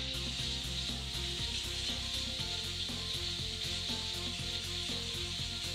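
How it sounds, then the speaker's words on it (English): KleenJet vapor steam cleaner with a steam lance and stainless steel detail brush, steaming and scrubbing burnt buildup on an oven or stainless pot: a steady hiss with rhythmic brushing rubs, close and continuous with no talk. "Notice how easily the buildup can be removed with a KleenJet vapor steam cleaner and the steam lance to which a stainless steel detail brush is attached."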